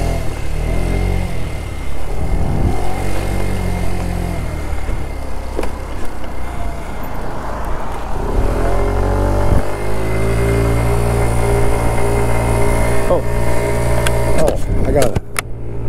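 Kymco Agility 50 scooter engine idling and running steadily close by in winter, a continuous low hum with small shifts in pitch, with a person talking over it throughout.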